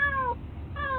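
A cat meows twice, loud and close, with a drawn-out falling call at the start and a second one near the end, separated by a brief quiet gap.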